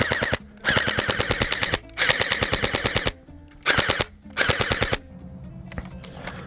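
Gel blaster firing in rapid full-auto bursts, four or five loud, close, rattling strings of shots separated by short pauses, ending with a quieter mechanical tail.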